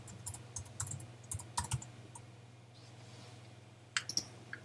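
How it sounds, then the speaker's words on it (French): Typing and clicking on a computer keyboard while entering text in Photoshop Elements, with several quick close clusters of light key taps separated by short quiet pauses, soft and near, no talk. "Je clique et j'écris mon texte."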